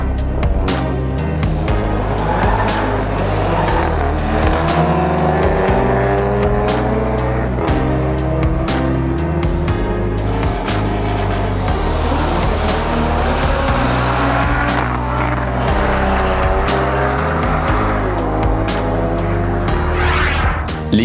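Drag racing cars accelerate hard at a French drag strip, with loud, sustained engine roars rising in pitch through repeated gear-driven sweeps, close and powerful throughout.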